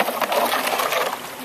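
Water sloshing and splashing about inside a kayak on a river, a continuous watery churning close by, heard alongside voices.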